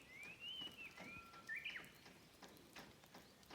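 A Japanese nightingale sings from a mountain village in Japan with faint, distant, clear whistled phrases: a long sliding note, then a quick rising flourish, over quiet ambient hiss.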